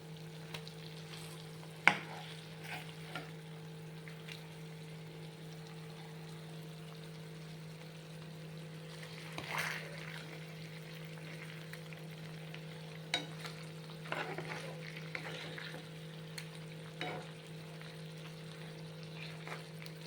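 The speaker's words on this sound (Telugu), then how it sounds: "ఇటు కూడా తిప్పుకున్న తర్వాత ఇంకా 10 minutes ఫ్రై చేసుకోవాలి లో ఫ్లేమ్లో" Fish fries gently in a pan over a low flame, a faint, even sizzle with occasional light ticks and scrapes above a steady low hum, without voices.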